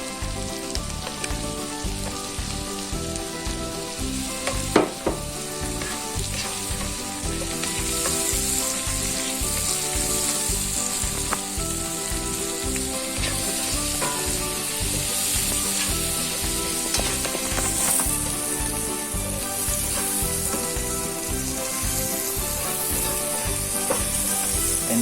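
Mushroom slices frying in a pan for an English breakfast, a steady close crackling sizzle that runs throughout with a faint tonal music-like layer underneath and one brief sharp knock near the start.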